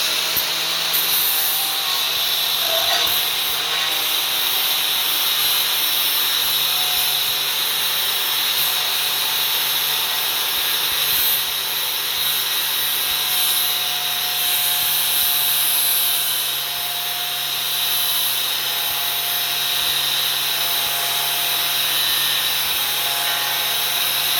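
Angle grinder working with zirconium flap discs of 120 grit, a loud continuous high-pitched grinding whine that holds steady throughout with slight variations in pressure.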